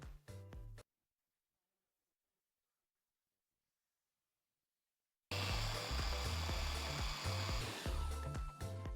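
An electric mixer blends butter with flour and powdered sugar for a strawberry jam tart, running loud and steady for a few seconds after a brief burst and a long silent pause.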